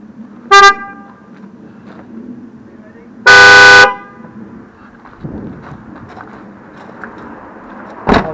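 Two short honks from the weak stock horn of a 2016 Fiat Ducato camper van, a quick toot then a longer blast, loud against quiet background noise, with a voice talking faintly between them.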